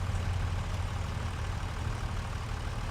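A tractor engine in Farming Simulator 25 runs at a steady low idle, a continuous heavy rumble that stays even throughout.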